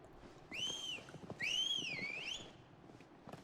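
Whistling in the video game Final Fantasy XVI: two clear, rising-then-falling melodic whistles, the second longer, over faint hoof-like clopping and soft background movement.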